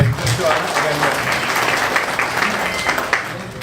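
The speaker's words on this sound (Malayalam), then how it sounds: "എല്ലാവരും നന്നായിട്ട് കൈയടിക്കണം" A crowd at a Farmers' Day celebration in Upputhara and Ayyappancoil panchayats claps for farmers being honoured, a sustained, moderately loud round of applause with voices mixed in beneath it.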